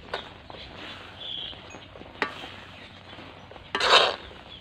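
Sweet mung bean filling being stirred in a pan, with a spatula scraping and tapping against the metal in scattered knocks and one louder scrape near the end.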